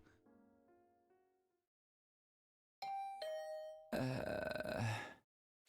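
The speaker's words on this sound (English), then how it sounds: "Then my doorbell started ringing." Electronic chimes ring out, followed by a loud, buzzy doorbell tone that sounds twice, game-like and close, from the video game The Hundred Line.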